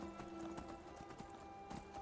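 Horse hooves clip-clopping in Skyrim, a steady run of close, fairly loud strikes over an ongoing game backdrop, with a brief whinny-like tone and no talk.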